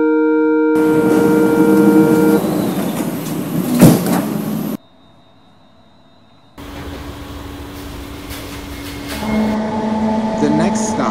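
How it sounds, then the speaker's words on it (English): Sliding doors on an automatic driverless subway train on Line 10 shut amid chiming tones, a clunk and rumble, then a brief hush before the carriage hum and rising motor whine return; an automated voice announces over parts of it. "Doors are closing."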